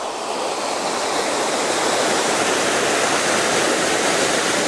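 Water rushing through a single open paddle of a canal lock, a steady, loud broadband roar of churning water with no pauses and no voices.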